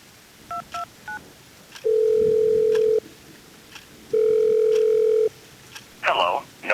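A quick run of touch-tone keypad beeps on a telephone, then two long, steady beep tones separated by a pause, ending in a short noisy burst, all clear and close.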